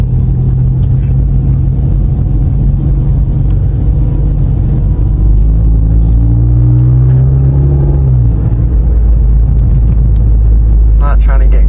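A sports car's engine rumbles loud and close from inside the cabin, its tone rising and falling as it drives, with people talking over it.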